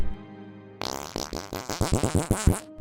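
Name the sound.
fart sound effect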